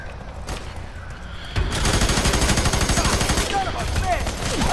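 Rapid automatic gunfire from the video game F.E.A.R. 3, set in a slums level, breaking out loud and dense partway through with sustained bursts over a quieter start.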